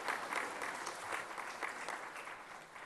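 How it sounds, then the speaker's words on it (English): Dense applause from a large audience at an agricultural foundation day and award ceremony: a steady, even wash of many clapping hands, fairly distant and soft, continuing without pause. "Ladies and gentlemen, please give them a big round of applause for achieving the targets."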